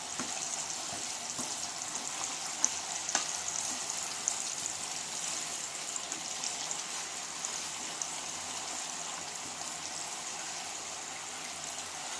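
Spices sizzling steadily in hot oil in a pan while preparing amla (gooseberry) pachadi, a soft continuous crackle and hiss with no pauses and no talk.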